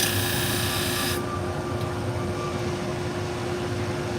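Salon shears are sharpened to a 50-degree bevel on a powered sharpener, giving a steady mid-level abrasive grinding hiss that drops off sharply after about a second, leaving a softer running hum.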